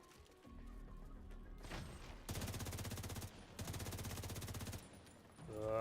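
Machine gun fire from an enemy gunner in a video game, sustained rapid bursts that come in two long loud volleys with a brief pause between, over game ambience.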